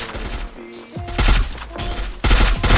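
Rapid automatic gunfire in the Free Fire video game, loud bursts of shots rattling off in quick succession with brief gaps between volleys, close and punchy.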